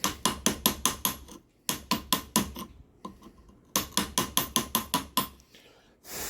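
A steel chisel is struck repeatedly against a stone paver while cutting a number into a disc golf tee pad, giving sharp, close, evenly spaced metallic chops in three quick bursts with short pauses between them.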